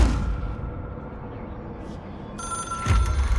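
A memorial telephone rings in the Control video game, an object of power wired to the astral plane; a low droning room tone holds steady before a brighter bell-like ring bursts in near the end.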